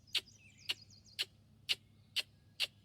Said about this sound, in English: here's the call of a king rail